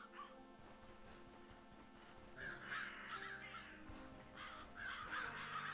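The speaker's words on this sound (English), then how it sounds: "Hello, crows." Crows caw in the fantasy game Stoneshard, several harsh calls repeating in two clusters over a steady background ambience, fairly close and clear with no talking.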